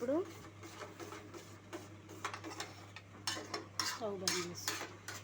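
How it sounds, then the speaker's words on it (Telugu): A spoon scrapes and clinks around a pot as ground neem leaf juice is stirred into melted soap base, soft irregular stirring sounds under a woman's steady speech. "మిక్సీ పట్టిన వేపాకు రసాన్ని మొత్తము కలుపుకోవాలి"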